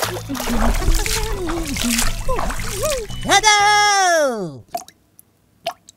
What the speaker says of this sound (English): each and every morning I take baths in this little dish which I will now demonstrate